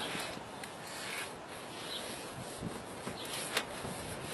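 Hands working dry BBQ seasoning rub into raw meat, giving a steady close rubbing and scraping texture with small soft bumps throughout, no voices.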